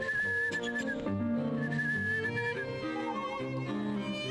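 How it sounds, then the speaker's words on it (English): Melodic whistling in the survival horror video game Rule of Rose, a clear, continuous whistled tune sliding between notes over a soft background, no speech. "That's where the whistling was coming from this whole time."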